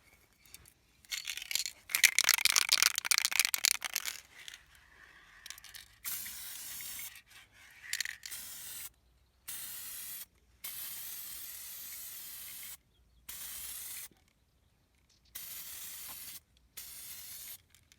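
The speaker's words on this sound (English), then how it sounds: "I need to finish spray painting these old fruit boxes" Spray paint hisses from an aerosol can onto old fruit boxes being readied as kitchen shelves, in repeated bursts of varying length, some long and loud, others short, separated by silent pauses.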